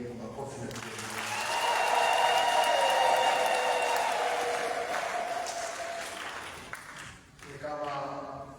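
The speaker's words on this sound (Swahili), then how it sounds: "Naomba tumpigie Mungu makofi na vigelegele." A church congregation at a diaconate ordination bursts into sustained applause with high ululating trills riding over it, swelling loud then fading, followed by a voice speaking.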